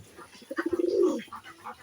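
A pigeon gives a single short, close coo, a quick burst of soft pulsing notes that lasts under two seconds in a quiet setting.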